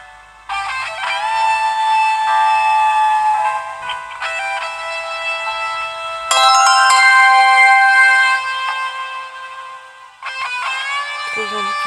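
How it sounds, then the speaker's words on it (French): Phone notification chimes ring out repeatedly in a dating video game, bright electronic tones arriving in several bursts over about twelve seconds, loud and alone with no talking. "les notifications continuent d'affluer jusqu'à ce que nous quittions la pièce"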